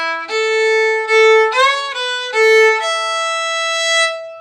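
Fiddle playing a short jig phrase in a beginner class: a few clear bowed notes ending on a long sustained E, close and alone, with no talking.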